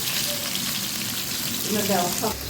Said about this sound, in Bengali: একটু গরম গরম মাছ ভাজি করছি